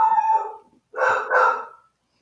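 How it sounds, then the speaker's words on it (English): A dog that just had puppies barking and howling, one drawn-out wavering howl followed after a brief pause by two more yelping barks, close and clear with no talk. "got a dog that just had puppies, and that's what you're hearing"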